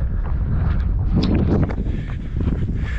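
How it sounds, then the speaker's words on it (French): Rough, low rumbling wind buffeting a microphone outdoors while running, steady and loud throughout with gusty swells. "il y a plein de vent, je pense que vous n'allez pas m'entendre"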